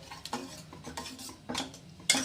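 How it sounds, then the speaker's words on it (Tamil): A ladle stirs thin lentil kulambu in a pot, making a few close scraping, clinking strokes with a soft bubbling underneath. "நம்ம அந்த கரண்டிகிட்ட இப்படியே கிண்டி விட்டாலே போதும்."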